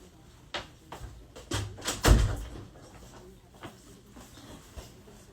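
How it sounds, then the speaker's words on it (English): A door is shut nearby during an indoor livestream, heard as a short series of knocks and rattles followed by one firm thud at about two seconds, with faint room noise after it and no talk. "Hold on, let me close my door."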